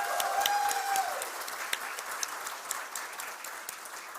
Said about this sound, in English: can we have a big round of applause for Digikore Studios and for all of you present here?